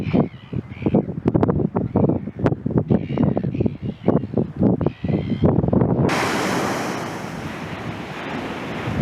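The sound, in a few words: wind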